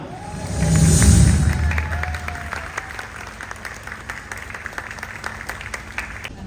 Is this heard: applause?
yes